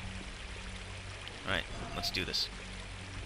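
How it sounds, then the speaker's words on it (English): A waterfall in the video game Unreal Gold rushes and splashes as a steady, soft wash of water beneath someone speaking. "Hey, I'm bathing in the waterfall."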